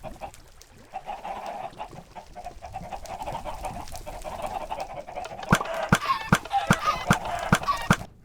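Chickens on a farm in the game Minecraft cluck and squawk continuously as a dense flock, with sharp clicking pecks growing louder and more frequent toward the end; no talk.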